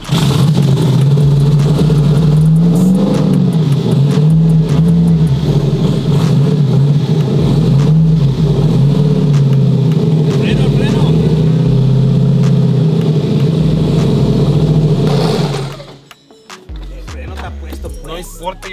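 Single-turbo Chevrolet Silverado pickup engine held at raised revs, a loud, steady droning roar that rises slightly early on, then drops away near the end to a quieter rumble.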